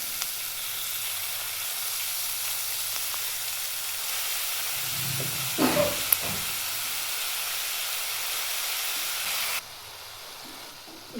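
Finely chopped dill leaves hit a hot pan for a dry Maharashtrian shepu bhaji, giving a steady close sizzle with a brief burst of stirring clatter midway before the hiss settles again.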